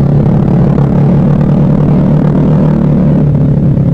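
A Vespa automatic scooter fitted with a racing exhaust drones loudly and steadily up close, a continuous buzzing engine note with no pauses.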